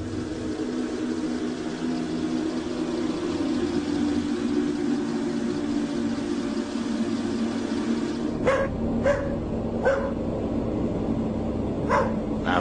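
A dog barks at night outdoors, a few short sharp barks arriving in the second half over a steady low rumble of distant traffic and engine noise.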